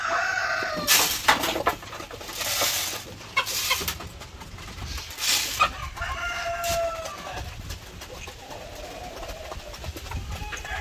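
Chickens cluck in a backyard laying flock with a rooster present, a mix of short squawks and brief cackles at moderate distance, along with scattered bursts of scratching and rustling.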